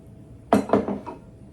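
Fork stirring a date mixture into bread batter in a bowl, a quick run of four or five clinks and scrapes against the bowl, close and fairly loud, then quiet.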